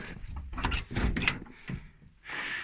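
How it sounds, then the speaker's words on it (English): The sagging door of a rusty 1981 Chevrolet K20 Suburban is handled, with a few close creaks and thunks of metal as it is moved and shut, followed by a short rushing hiss. "The doors do sag a tiny bit when you open the doors, but it still shuts very well."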